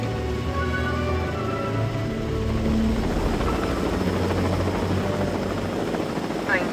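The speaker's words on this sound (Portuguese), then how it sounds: "Bacaninha os helicópteros, vem os dinossauros balançando que nem um saco de batata" Helicopters ferrying dinosaurs in the video game Jurassic World Evolution 2, a loud continuous rotor thrum with steady chopping blades filling the whole stretch.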